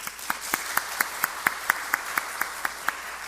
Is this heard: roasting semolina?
no